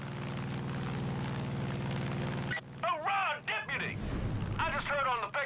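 Airplane in Far Cry 5 drones steadily with a loud, constant engine roar, then cuts away to game sounds and bursts of noise.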